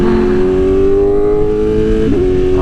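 A motorcycle accelerating in second gear, its engine note rising steadily in a loud, close, continuous drone with a brief dip near the end, no voices over it.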